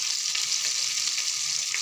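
Goat leg curry base fries in a pan as chili powder and coriander powder go in, giving a steady, close sizzle with no voices.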